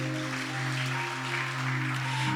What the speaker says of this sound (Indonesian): Tepuk tangan buat Tuhan Yesus dong,